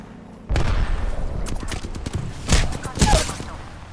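Gunfire in Apex Legends, with a rattle of rapid shots that starts abruptly and builds to two loud bursts near the end, under game voice lines.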